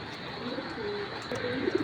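Pigeons give soft, brief coos near the end, faint against a steady background hiss, with no talking.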